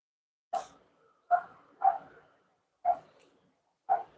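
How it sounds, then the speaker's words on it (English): Dogs barking in five sharp, separate woofs spaced about a second apart at a moderate distance, with quiet between them and no talk. "Oh, them dogs."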